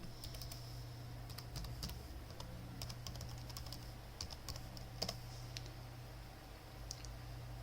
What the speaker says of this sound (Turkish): URL kısmına site adresini yazıyorum